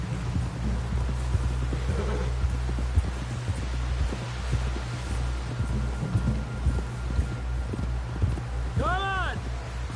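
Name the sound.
horse hooves clip-clop while riding, in video game Red Dead Redemption 2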